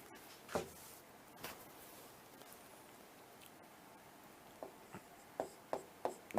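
Writing a question by hand during a math lesson, soft scratchy pen or chalk strokes, with sporadic sharper taps clustering toward the end, close and quiet, with no speech.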